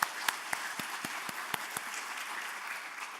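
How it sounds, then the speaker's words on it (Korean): Scattered, slow clapping in a Korean church during a Friday night service, several distinct claps spaced evenly over a quiet, hollow room background, fairly faint and sparse. "박수 한번 부탁드리겠습니다"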